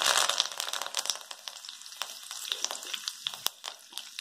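Curry leaves crackle and spit in hot oil with sesame seeds for a sweet corn zunka, a loud initial sizzle settling into scattered sharp pops close by, no voices.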